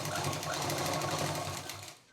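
Sewing machine double-stitching a fabric belt for a homemade kids' exam bag, a fast steady mechanical whirr with rapid needle ticks, close and loud, winding down at the end.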